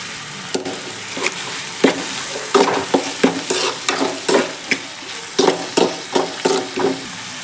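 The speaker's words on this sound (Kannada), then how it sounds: "ಸೊ ಇದೇ ಥರ ಚೆನ್ನಾಗಿ ಫ್ರೈ ಮಾಡ್ಕೋಬೇಕು" Pasta sauce ingredients frying in a pan while being stirred, with a steady sizzle under a string of sharp, rhythmic scrapes and clacks of the spoon against the pan, close and fairly loud.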